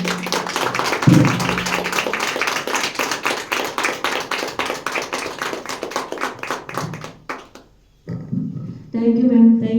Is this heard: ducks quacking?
no